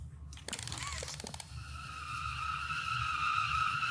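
A ride vehicle in the video game Poppy Playtime Chapter 3 starts with a burst of rattling clatter, then settles into a steady low rumble with a rising mechanical whine. No one talks.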